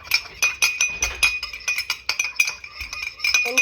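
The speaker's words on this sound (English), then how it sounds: "you're gonna just whisk it with your knife" An egg being whisked with a knife against a glass bowl makes quick, close clinking taps in a fast irregular rhythm, one bright metal-on-glass tick after another, with no voices.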